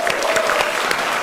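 A short burst of applause from a stand-up comedy audience, with dense clapping and a few sharper claps audible throughout.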